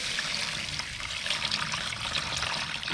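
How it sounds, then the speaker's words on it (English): Water pours steadily into a burnt-out barbecue drip pan, a continuous close splashing rush that stays even and fairly loud throughout, with no talking. "We're going to add water to the center of this pan."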